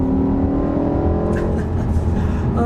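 The V10 engine of a 2006 BMW M5 revs hard on quick downshifts, a steady loud mechanical roar that swells with sharp blips of throttle near the end.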